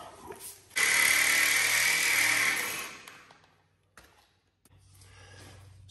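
A power tool cuts off a rusted, stripped nut on a trailer light, giving a loud, harsh grinding burst of about two seconds, then winding down into quieter handling sounds and a brief second run.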